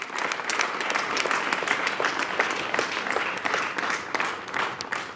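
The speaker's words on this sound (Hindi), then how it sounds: "एक जोरदार ताली आप अपने लिए बजाइएगा।" A large gathered audience at a Hindi community event breaks into loud, sustained applause, a dense crowd of hands clapping steadily throughout with no voices on top.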